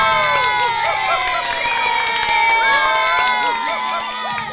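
A lively crowd at a gathering cheers and shouts, with children's high voices yelling over a dense, loud, continuous roar; clapping is hard to pick out under the voices.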